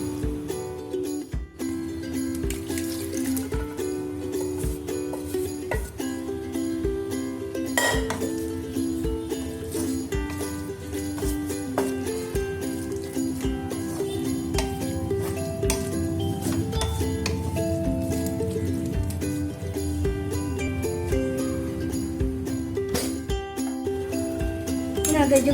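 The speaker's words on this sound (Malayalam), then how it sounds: "നമുക്കിനി ഇത് സവാള ഒക്കെ വഴറ്റി വെച്ചേക്കുന്നതിനകത്തേക്ക് ഇട്ട് കൊടുക്കാം" Cooked beef for a Kerala-style pepper fry tipped into a pan of sautéed onions, with repeated metallic clinks and scrapes of a spoon against the pan over a steady sizzling bed, close and continuous.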